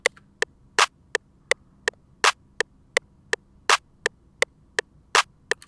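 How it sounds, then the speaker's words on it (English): A clap lands on beats two and four of an FL Studio trap beat. Each clap is broad and bright and sounds over a steady run of sharp ticking hats, clear and alone with no voices. "This clap, just laid it down on the 2 and 4."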